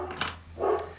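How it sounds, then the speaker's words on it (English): Household dogs barking in a room during fly tying, two short muffled barks about half a second apart, somewhat distant and fairly faint over a low steady hum. "I guess you can all hear my dogs."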